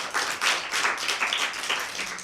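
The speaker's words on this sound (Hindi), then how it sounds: "तो हम सब मिलकर जेसिका के लिए भरपूर तालियां बजाते हैं।" Children clap together for a girl named Jessica after she tells a story at a Christmas kids' show; a steady patter of hand claps fills the clip, moderately close and continuous, with no talking.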